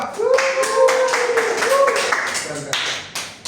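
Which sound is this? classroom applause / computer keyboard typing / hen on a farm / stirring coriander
classroom applause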